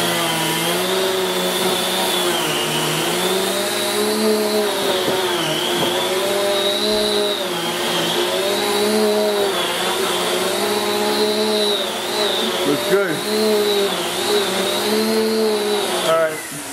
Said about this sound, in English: another central vac demo. This is a different power brush.